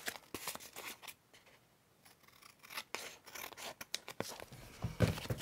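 Scissors snipping through paper while trimming a junk journal craft piece, a quiet run of crisp cuts coming in bursts, close up and alone with no talking.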